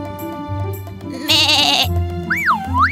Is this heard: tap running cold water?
no